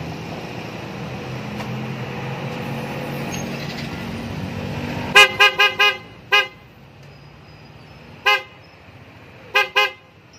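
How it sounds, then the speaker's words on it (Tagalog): A high, nasal snail horn on a Yamaha NMAX scooter beeps in a quick series of short toots, then twice more after pauses, over a steady engine hum. "titesting na natin yung busina kung okay siya."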